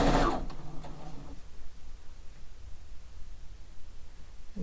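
A sewing machine stitches quilt fabric strips, a brief busy run of rapid needle clatter that settles into a faint, steady mechanical whir.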